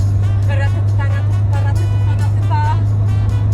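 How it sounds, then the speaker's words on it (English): A car speeds along a French free road beside a lorry, its engine a steady, loud, close drone with a continuous low hum and some intermittent higher-pitched road noise. "So we can just drive alongside on the free road as fast as we can."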